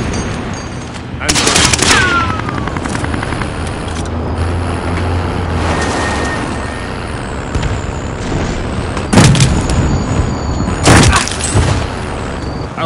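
A mounted machine gun in a video game fires a few rapid bursts, loud and close, over a constant rumble of engine and battlefield noise while a voice talks.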